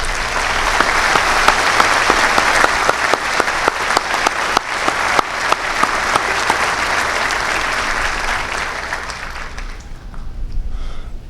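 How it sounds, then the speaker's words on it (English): An audience at a Naval War College event gives the instructors a loud round of applause: dense, sustained clapping with sharp individual claps standing out. It lasts about nine seconds, then thins and fades away. "let's just take a moment here and give all of the instructors here a round of applause"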